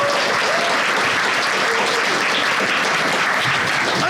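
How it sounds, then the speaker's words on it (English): A live podcast audience gives thick, sustained applause, loud and close, with a continuous wash of clapping and no pauses. "Give yourselves a huge round of applause."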